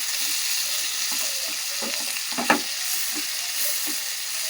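Tamarind sprigs frying in a pan on low flame, a constant bright hiss of sizzling oil with several soft stirring scrapes and one sharper knock midway, near and without speech.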